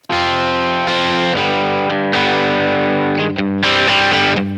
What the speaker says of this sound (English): Maybe this is actually a Telecaster, it sounds more Telecaster-y